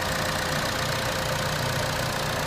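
2014 Chevy Cruze RS LT with a 1.4 liter turbo engine idling, a steady, even mechanical hum with a faint ticking texture, close and constant throughout with no voices.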